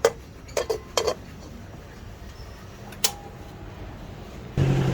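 A metal lid is set on a cooking pot of potato tops paksiw, giving a few sharp clinks and clatters near the start, one more a little later, then a low simmering hiss.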